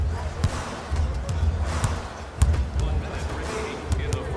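A basketball dunk in the NBA 2K19 video game, with sharp bounces and a slam under game crowd noise and commentary.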